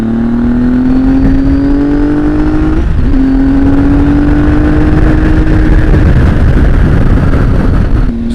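A Triumph Tiger 800 motorcycle fitted with a noisy exhaust rides along a muddy green lane, its engine drone steady and loud with a rising pitch, easing briefly at one point, all under heavy wind buffeting.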